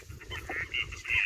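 A water hen calls during a bird hunt in the Hammar marshes, giving harsh, honking, nasal cries that rise toward the end, loud and close with no talking.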